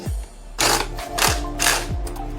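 A size 5 hex key tightens bolts while an Evoltrix MAX-60 electric off-road bike is assembled, giving a few close, sharp ratcheting clicks and metallic snaps in short bursts with quiet gaps between.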